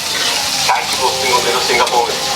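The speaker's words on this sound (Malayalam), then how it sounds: "അപ്പോൾ ഇതാ മുളക് ഫ്രൈ ചെയ്യണ്ടേ" Chillies frying in hot oil in a pan, a dense steady sizzle with stirring scrapes throughout, close and fairly loud, no talking.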